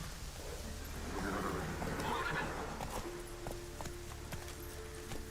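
A horse in the video game The Witcher 3 lets out a loud whinny, with clip-clop hoofbeats continuing behind it.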